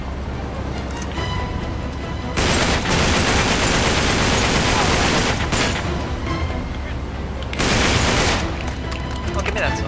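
Heavy gunfire in Uncharted 3: Drake's Deception, on rough seas: continuous loud volleys and blasts that swell into dense bursts, with a player talking over the shooting.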